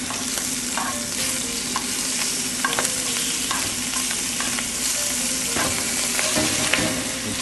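Shrimp fry in a hot pan with a steady, close sizzle throughout, while the pieces are turned and scraped with occasional light clinks and stirring sounds.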